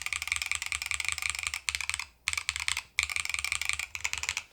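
Rapid, clacky keystrokes on a NAJA 68 Hall effect mechanical keyboard, typed steadily up close, with two brief pauses.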